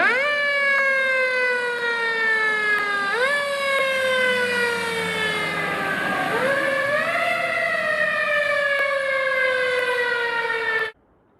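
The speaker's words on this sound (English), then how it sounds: "the sound of a fire truck ripping down the street with its sirens blaring" A red fire truck's siren wails loud and close along a city street at night, rising and falling in long sweeping tones that hold steady before cutting off abruptly.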